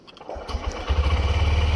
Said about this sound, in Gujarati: ચલો બાઇકને રેડી કરી બાઇકને સ્ટાર્ટ